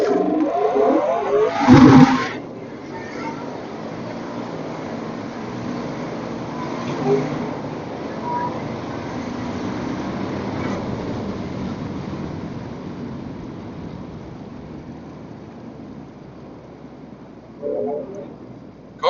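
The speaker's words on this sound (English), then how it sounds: "Car is chattering bad, even with lower pressure." A Dodge Charger Hellcat drag car launches with a loud roar and a sharp burst, then a sustained, distant engine drone carries through the run, swelling again near the end; tire chatter is not clearly picked out.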